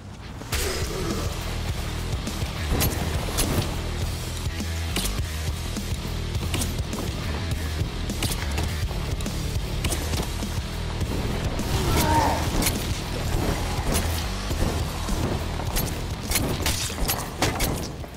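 Crackling, whooshing fire effects from a fire-enchanted melee weapon in the dark-fantasy dungeon game Dark and Darker, dense and steady throughout, with booming impacts and swishing swings layered over a constant low rumble.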